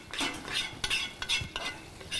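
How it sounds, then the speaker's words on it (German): Food sears in a hot deep pan while a utensil stirs and scrapes in short, repeated strokes, close and fairly quiet. "Wir nehmen aber die tiefe Pfanne dann zum Anbraten."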